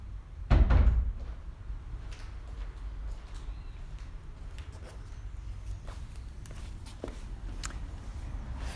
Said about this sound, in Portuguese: Fui ali fechar a porta.